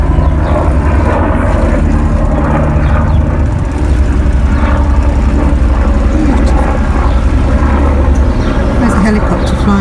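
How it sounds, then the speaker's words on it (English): A steady low engine drone of a helicopter overhead runs throughout, a constant rumble with some outdoor background noise. "There's a helicopter flying around."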